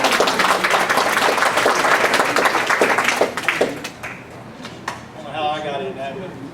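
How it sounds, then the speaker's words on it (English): Audience applause at an evening program in a city hall, dense clapping for about three seconds that dies away, followed by people talking. "Let's hear another round of applause."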